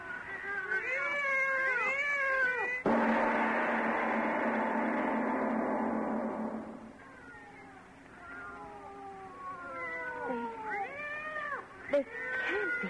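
Two cats yowl and caterwaul in drawn-out, rising and falling wails as a sound effect in an old-time radio horror drama, broken by a loud burst of noise, with people talking between the cries.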